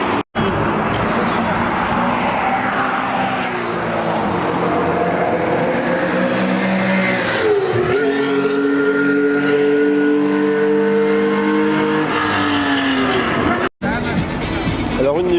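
A Porsche Cayman engine roars at close range, its tone climbing and shifting through gears in a loud sustained drone with a brief cut near the end.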